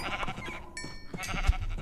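A sheep in the Minecraft video game gives a short, close bleat alone, set against a soft game background.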